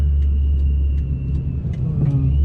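Supercharged 2004 Mustang cruising on a highway with a fresh tune, a steady low engine drone and road rumble filling the cabin, with a faint whine and a few light ticks over it.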